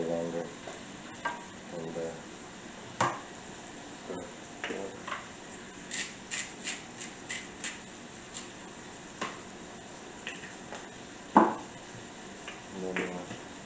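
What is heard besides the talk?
onions and carrots cooking in a pan on stove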